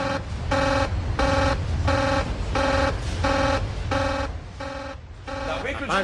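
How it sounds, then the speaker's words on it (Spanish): A control-room alarm buzzer at the Chernobyl nuclear power plant blares in loud, regular pulses, roughly one per half second, repeating steadily with a harsh electronic tone. "Él también está acostumbrado a alarmas de este tipo."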